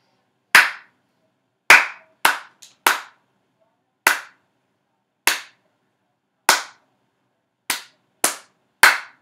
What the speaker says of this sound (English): Okay, now let us clap that together.